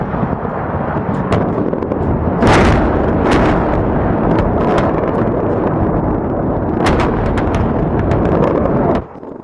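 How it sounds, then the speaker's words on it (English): Cruise missiles and bombs exploding over Baghdad's administrative district in wartime news footage: a continuous roar of blasts and rumbling fire with repeated sharp detonation bursts, loud and dense, ending abruptly. "Cruise missiles and bombs brought tons of high explosive to the heart of Baghdad's administrative district."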